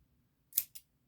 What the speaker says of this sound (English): I just snip it under there.